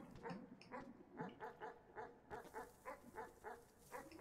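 A dog in the video game Animal Well barks in a fast, regular run of short yaps, about a dozen spaced evenly, faint and close with no talking over them.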